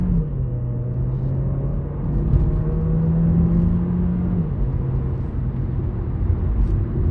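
A 2023 Mercedes-Benz CLA 200 with a 7-speed dual-clutch transmission and 19-inch rims accelerates hard. Heard from inside the cabin, its steady engine drone rises, then drops at a gear change, over constant road rumble.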